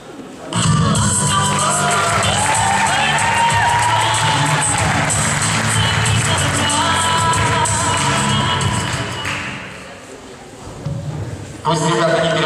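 A packed audience at a KVN Cup of Ukraine semifinal bursts into loud, sustained cheering, whooping and applause that fills about ten seconds, briefly dips, then swells again near the end.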